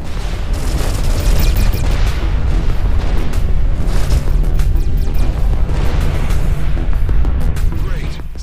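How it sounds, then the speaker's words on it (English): A warning shot explosion booms in a space battle game, a dense, loud rumbling roar that fills the whole stretch with heavy low-end blasts and crackling bursts, alongside voices. "You may call this a warning shot"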